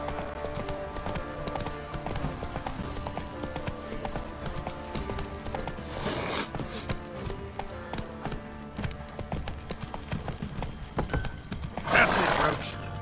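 Roach, the horse in The Witcher 3: Wild Hunt, gallops through Velen with a steady, rapid clip-clop of hooves and an occasional whinny, under game music and voices.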